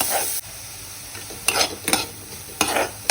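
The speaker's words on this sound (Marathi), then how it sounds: "आता ह्यात आपण ॲड करणार आहे चॉप करून ठेवलेले ऑनियन. छान मिक्स करून घेऊया याला." Chopped onion and a prepared paste are stirred in a hot pan for Maharashtrian pitla, a constant bright sizzle punctuated by several sharp spatula scrapes close by.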